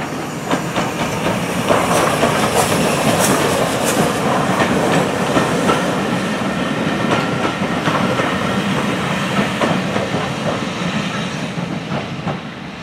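A train runs past on the Great Central Railway heritage double-track line during a winter steam gala, a loud, steady rumble with rhythmic wheel clatter and a touch of hiss that holds for the whole stretch, with no talking.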